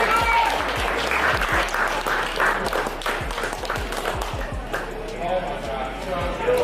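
An audience at a hot dog eating challenge in Ohio claps and cheers, steady dense applause with scattered sharp claps throughout, close and loud.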